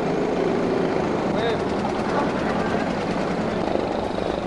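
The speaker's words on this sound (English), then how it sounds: "It's the unmistakable sound of the disappearing propeller boat, or Dispro, or DP, or most commonly, Dippy." A disappearing propeller boat engine runs steadily at a regatta, a loud continuous buzzing drone with a throbbing beat that holds throughout.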